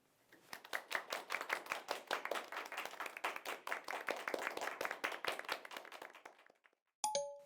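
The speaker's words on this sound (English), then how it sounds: "give them another round of applause" Fairly small group of students clapping for debaters after a school debate, quick sharp individual claps in a brisk rhythm, then a bright chime right after the clapping stops.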